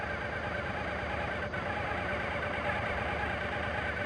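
Suzuki TL motorcycle engine idling at about 1200 RPM, a steady, even mechanical drone with a broad hissy texture, close and constant for the whole stretch with no talk.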